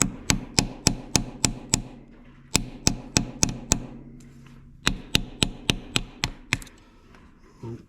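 Metal tapping with a small screwdriver to drive out Ford 8N tractor engine cylinder sleeves: sharp, evenly spaced strikes in three quick bursts of about six to eight taps each, close and loud.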